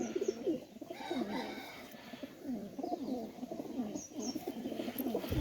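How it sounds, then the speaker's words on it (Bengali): Pakistani Teddy pigeons coo repeatedly in soft, throaty phrases from nearby, with faint chirps and other bird sounds in the background. "এই যে আরেক সেট টেডি কবুতর দেখেন"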